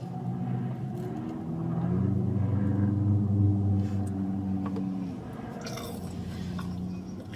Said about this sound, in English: But now we're going to eat the fries.